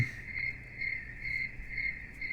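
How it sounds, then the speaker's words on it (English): Crickets chirp at night in an RPG Maker game, a steady high-pitched trilling drone that pulses in slow regular waves over a soft hissing ambience, with no voices. "Yes, wait for the really loud crickets at night."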